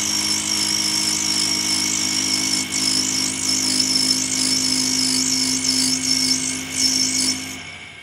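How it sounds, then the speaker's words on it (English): A metal lathe turns down a pillar for a tower or turret clock with a steady, loud mechanical whine and a rhythmic, wavering cutting tone, running without talk before winding down at the end. "So we're going to start turning this down, taking off material at a time until it starts turning round."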